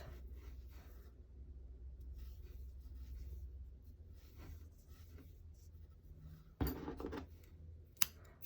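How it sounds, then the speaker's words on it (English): Scissors snip the yarn ends of crochet palm leaf earrings: a couple of short, close cuts after quiet handling and low background rumble. "And then just cut the ends."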